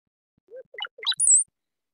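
Brown-headed cowbird song heard alone in near silence, a short sequence of low bubbling gurgles climbing to a sharp, very high whistled note at the end, lasting about a second.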